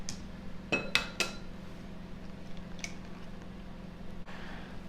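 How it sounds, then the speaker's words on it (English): Egg cracked against a bowl and dropped into a well of flour and salt: a few sharp taps and a soft wet plop, close and quiet, over a steady low hum. "that's where we're going to crack our egg"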